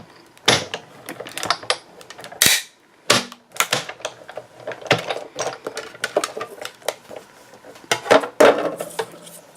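A hand-cranked die-cutting machine, a Big Shot, pushes layered paper shapes through its rollers with irregular clicking, ratcheting and clattering bursts, loud and close, with brief pauses between turns.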